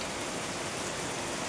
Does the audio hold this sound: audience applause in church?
no